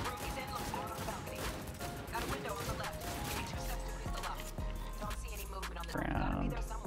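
Rapid volleys of gunshots from the video game Cyberpunk 2077 clatter densely with crashes and impacts in a continuous, close, busy game soundscape, with low voices underneath.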